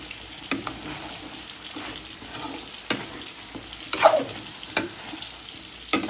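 Rohu fish curry with sponge gourd being stir-fried in a pan: a steady sizzle runs under sharp, irregular scrapes and clacks of a spatula stirring, with one louder knock near the end.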